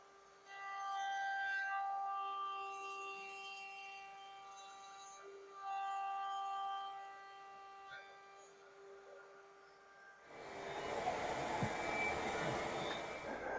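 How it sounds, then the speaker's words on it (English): A shop vacuum kicks in abruptly partway through, a loud, steady broadband roar after a quieter stretch of tonal machine hum during veneer woodworking on a keepsake box. "I'm going to turn the vacuum on and do it again"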